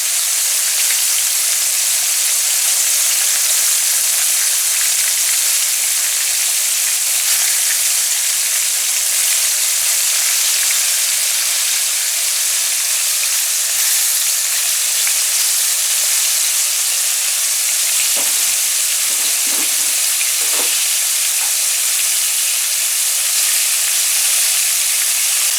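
Four fish fillets sizzle steadily in a pan for Guyanese fish and bread, a loud continuous frying hiss with a few soft knocks near the end.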